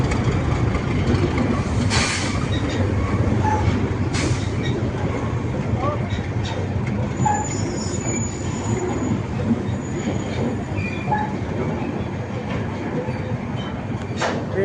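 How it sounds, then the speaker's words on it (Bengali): An express train bound for Delhi rolls into a station with a steady heavy rumble, wheel squeal and brief horn-like tones, loud and close throughout, with faint voices in the background. "একটা এক্সপ্রেস ট্রেন এসে ঢুকছে।"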